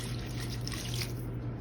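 A steady stream of water is poured into funfetti cake mix, which already holds oil and eggs. The liquid trickles continuously at close range with no voices over it.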